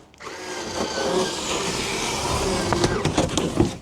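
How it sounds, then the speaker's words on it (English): LOGBAY 4V cordless electric scissors with a 10-sided rotary blade at 240 RPM cut through cardboard up to 1 inch thick, giving a steady close motor whir with a gritty crunch and rising rattles toward the end. "Up to 45 minutes of cut time, cutting cardboard."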